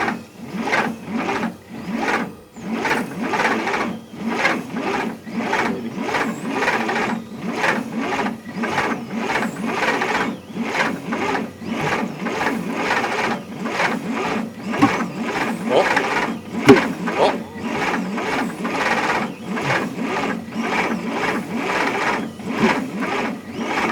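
A 1960 Bombardier J5 snow vehicle engine cranks over after fuel has been poured into the cylinders and intake, giving a steady fast rhythmic chugging that runs the whole time with a few sharper pops.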